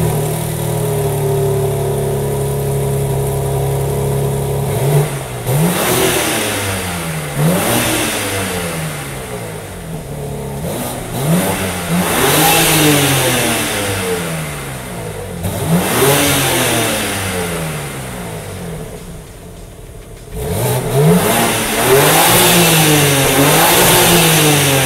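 A BMW M4 Competition engine revs hard through repeated acceleration runs, each pull climbing sharply then dropping at the gear change, loud and close, with an idle-like drone at the start.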